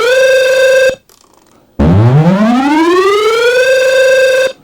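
A loud alarm-like tone from an Akai Force synthesizer holds a steady pitch, cuts out briefly, then returns as a riser that sweeps upward from low and levels off into a sustained wail.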